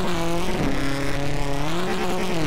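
Number 87 rally car in a DASCAR Rally Championship stage, its engine held hard on the rev limiter. A loud, close, continuous buzzing drone with a rapid stutter runs throughout, with no talk.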